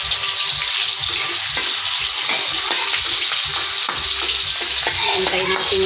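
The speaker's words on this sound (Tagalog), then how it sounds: "Magigisa tayo ng bawang" Garlic and onion sauté in a pan for pineapple chicken, giving a loud, continuous close-up sizzle broken by repeated scraping stirs, with no voices.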